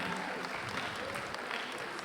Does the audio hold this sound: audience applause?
yes